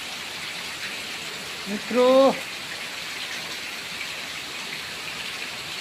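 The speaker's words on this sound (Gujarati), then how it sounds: "જો વરસાદ પડી રહ્યો છે, ફૂલ વરસાદ પડી રહ્યો છે." Heavy monsoon rain pours steadily near a full dam, a continuous close hiss that fills the whole stretch while someone speaks a single word over it.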